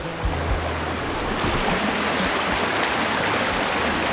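A river in the Philippines near Kaputian Falls, Borongan City, rushes steadily with a loud, continuous broadband wash of flowing water, and soft music faintly underneath.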